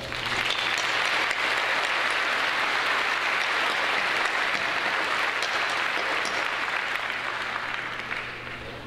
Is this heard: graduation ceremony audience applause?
yes